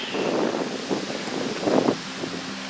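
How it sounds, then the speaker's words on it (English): Strong wind buffets the microphone in rough, uneven gusts on a wilderness hiking trail in the Pecos Wilderness, roaring loudly with a brief surge near the end. "It's so windy"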